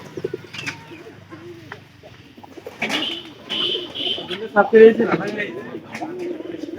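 Pigeons in a loft coo softly and intermittently, with a few chirps and a brief flutter, close by while people talk over them.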